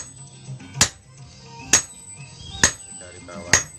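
A hammer striking a bronze saron bar during gamelan making, delivering four loud, ringing metallic blows at an even pace just under a second apart, each one leaving a bright sustained tone hanging between strikes.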